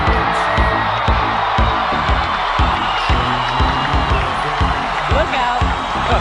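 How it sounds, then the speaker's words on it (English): A large Chicago basketball arena crowd roars and cheers loudly for Dennis Rodman, a dense sustained wall of voices with whoops, over a rhythmic thumping beat of music playing throughout. "deafening cheer from the crowd"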